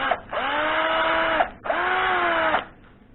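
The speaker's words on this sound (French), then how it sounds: "les fonds de siège, il va falloir les percer" A power drill with a 3 mm bit bores into Citroën 2CV seat bases in two sustained whining bursts, each about a second long, that bog down slightly under load, close up with no talking.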